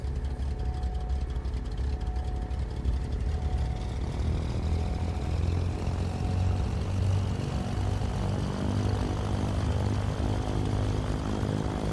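Cessna 414 Chancellor piston propeller engine idling just after start in Microsoft Flight Simulator 2020, a steady, close, continuous low drone with a throbbing propeller beat and no talking.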